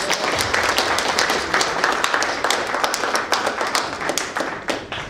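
An indoor audience claps at a website launch, a dense burst of many hands applauding steadily for a few seconds and then thinning slightly toward the end.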